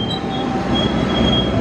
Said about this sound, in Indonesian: Di belakangnya ada kereta kargo